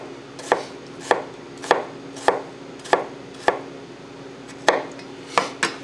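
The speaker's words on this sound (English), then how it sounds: "Then slice up the onion." A knife slices an onion on a cutting board in a steady series of about ten crisp, close chops spaced roughly half a second apart, with no talk.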